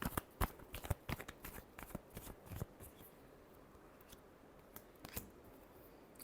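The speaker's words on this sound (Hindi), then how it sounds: "Last shuffle." Tarot cards being shuffled in a quiet room, a run of sharp riffling snaps and soft slides, clustered at the start and again near the end, close and fairly faint.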